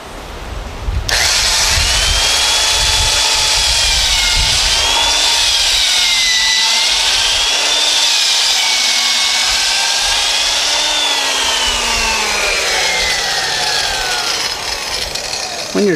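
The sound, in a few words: drill boring through wood beam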